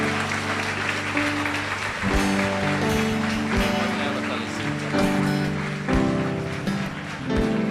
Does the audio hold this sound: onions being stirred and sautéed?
no